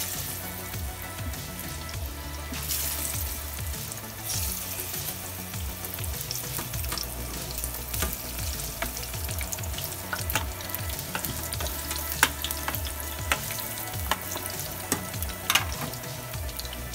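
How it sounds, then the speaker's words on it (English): Steady crackling sizzle of plantain frying in hot oil in a pan, close and continuous, with occasional louder pops and a few scraping stirs. "we're still frying the plantain"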